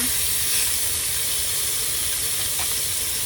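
Steak searing in a cast iron pan on a small electric hot plate inside a 2023 Flagstaff E-Pro 15TB camper, a steady close sizzle and hiss running without a break.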